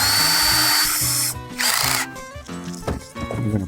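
A cordless power drill whirs loudly up close, bores through the mount for a Rod Saver rod holder on a jon boat, then stops and restarts in short bursts.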